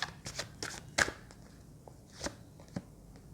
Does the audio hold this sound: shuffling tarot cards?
yes